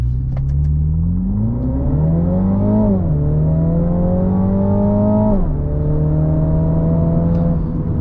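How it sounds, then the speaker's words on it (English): A 2024 MINI Clubman John Cooper Works, tuned to around 300 horsepower, revs hard while climbing uphill, its engine note rising through the gears in steady pulls with a short dip and a shift between them, loud and close throughout. "I think this engine revs pretty high, has a great exhaust note and sound to it"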